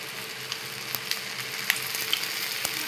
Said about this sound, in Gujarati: કડી પત્તાના થોડા કટકા પીસ કરેલા અંદર નાખીએ છીએ ત્યારે ચટકે છે